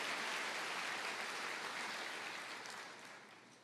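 A church congregation applauds during a sermon, a soft, even patter of many hands clapping that fades slightly toward the end.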